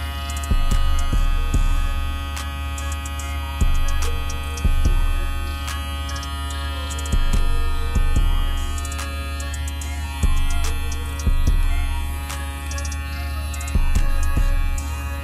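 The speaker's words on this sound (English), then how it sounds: "let's go ahead and turn this on, do a sound check, and see what this thing does performance wise" A Stylecraft Instinct electric shaver motor hums with a steady buzzing drone close up, pulsing in a regular rhythm of ticking, chattering bursts about every one to two seconds.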